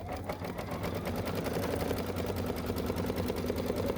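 An embroidery machine stitching a design on rehooped fabric, a fast steady rhythmic needle chatter heard up close without pause.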